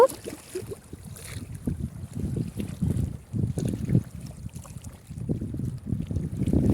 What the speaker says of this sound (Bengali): আমার কাছে এই ঢেউয়ের শব্দগুলো খুব ভালো লাগে